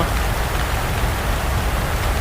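A loud, unbroken roar of heavy rainfall hammers down nearby, thick and steady throughout.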